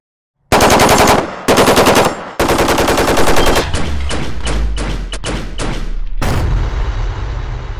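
A B&T APC556 rifle fires 5.56 rounds in loud, close bursts: two short strings of rapid automatic fire, then a longer sustained burst that breaks into quicker separate shots, followed by a final heavy blast.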